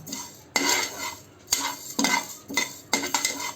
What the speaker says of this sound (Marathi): आपण आता धणे घालून घेऊ मग ओवा जिरं हे मिश्रण एक ते दोन मिनटं परतवून घ्या